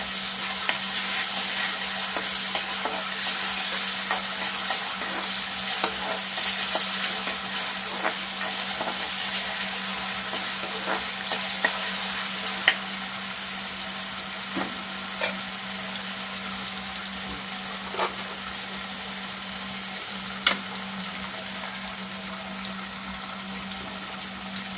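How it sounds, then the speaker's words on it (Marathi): Ginger-garlic paste frying in a pan for a spicy Malvani-style black peas curry, a continuous sizzle with intermittent scraping clicks of a spoon stirring, a low steady hum underneath, no talking. "चांगलं ढवळून घ्यायचं।"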